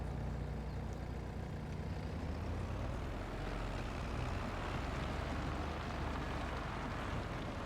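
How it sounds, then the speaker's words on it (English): A Mack truck in the Farming Simulator 22 video game runs with a steady, low diesel engine rumble that stays close and even throughout, with no voices over it. "Let's start up the Mack truck."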